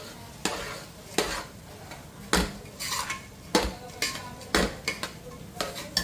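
Boondi and dry fruits for ladoo being mixed in a pan with the heat off, a spoon scraping and clinking against the metal in repeated strokes, close and fairly loud, with no talking.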